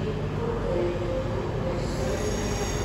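A Class 92 locomotive pulls a train into a station platform, a steady rumble of rolling wheels with a faint squeal running throughout.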